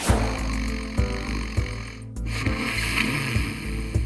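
Heavy, loud snoring from a man in a steady rhythm, each deep rasping breath recurring about every second or so, close and continuous.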